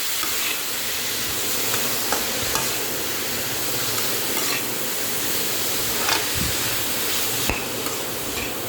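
Onions sautéing in a pan for butter paneer green peas masala, a steady, moderately loud hiss with occasional faint clicks of stirring, close by and free of talk.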